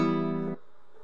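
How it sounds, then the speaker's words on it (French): Cat meowing used as a sound effect in a video edit: one loud, sustained, tonal meow lasting about half a second, then silence. "avec le chat qui fait miaou, ça donne un côté plus naturel"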